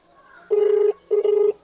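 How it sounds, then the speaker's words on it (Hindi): An unanswered mobile phone rings out in two close, loud bursts separated by a brief pause, with no one picking up. "मोबाइल की घंटी जा रही है और पंचायत सचिव फ़ोन नहीं उठा रहे हैं"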